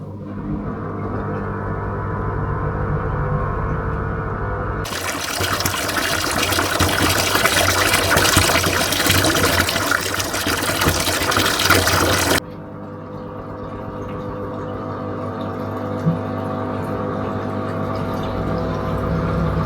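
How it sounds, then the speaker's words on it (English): A Hava T02 fully automatic washing machine drains its water and spins. A steady motor hum carries throughout, and a loud rushing surge of draining water in the middle cuts off abruptly as the spinning goes on. "it's just dumped all of that water and had a spin"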